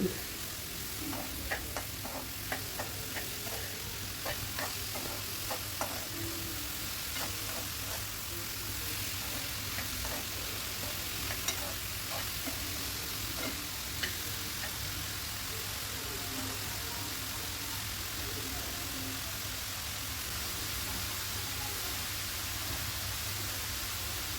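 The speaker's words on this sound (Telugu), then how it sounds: "మళ్ళీ ఒకసారి మంచిగా కలుపుకోవాలి" A pan of bottle gourd fry is stirred steadily, the soft sizzle running throughout with faint scraping clicks of a spoon against the pan, close and fairly quiet, with no talking.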